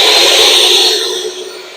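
A SawStop table saw's motor runs with its dust extraction going, a loud steady broadband whir that eases slightly in level toward the end.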